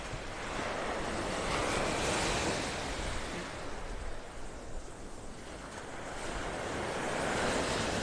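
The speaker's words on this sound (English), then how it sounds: "So every once in a while, though, a wave makes it up to this ridge." Ocean surf washing continuously onto a beach in North Naples, Florida, a steady, loud wash of breaking waves with wind buffeting the microphone, swelling and easing slightly over the stretch with no voices.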